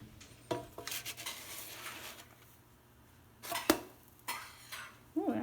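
A pancake flipped in a hot pan: several clattering scrapes and knocks of a utensil against the pan, with a soft sizzle at the end, fairly close and moderately loud.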